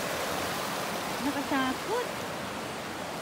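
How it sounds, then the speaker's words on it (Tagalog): Steady broadband rush of a deep river flowing in the Australian countryside, a constant close roar that runs throughout while a person briefly speaks over it. "Yan ang itsura ng river ngayon."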